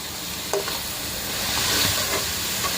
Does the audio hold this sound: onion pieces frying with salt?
yes